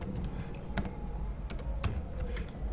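Rapid keystrokes on a computer keyboard while Python code is written, steady clicking taps at close range with a few sharper key hits standing out, no talk over it.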